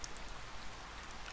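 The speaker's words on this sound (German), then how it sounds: "Da es regnet" Steady, soft rain in the video game Persona 4, a continuous even hiss of falling drops with no break and no voices.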